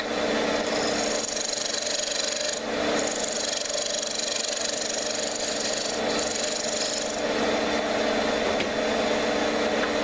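A skew chisel scrapes a wooden spinning top blank on a running lathe, cutting a tenon for the chuck; loud continuous rasping over the motor drone, with brief dips where the tool lifts off.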